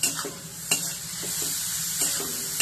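Carrot, capsicum, onion and crushed cabbage sauté in a pan with a steady close sizzle, broken by a few sharp scrapes and clinks of a spoon stirring against the metal.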